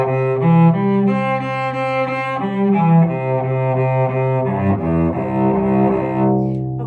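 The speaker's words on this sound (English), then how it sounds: "So I'm going to do a noodling arpeggio right now as my warm up." A solo cello plays a warm-up of flowing noodling arpeggios, rich sustained bowed notes moving smoothly up and down, loud and close with no talking.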